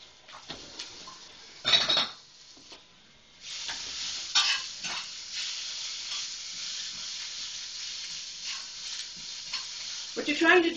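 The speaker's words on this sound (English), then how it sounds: "The grits are boiling. Give them a quick little stir and reduce that to a simmer." A spoon stirring boiling grits in a pot, with scraping and clinking bursts of metal on cookware over a quiet bubbling simmer, fairly close and moderately loud.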